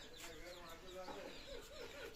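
Hens clucking softly at a clean village poultry farm where most birds sit brooding on eggs, with repeated short calls and chatter close by over steady background noise.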